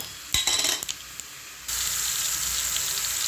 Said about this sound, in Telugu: ఇందులో మష్రూమ్స్ వేసి వేయించుకోవాలండి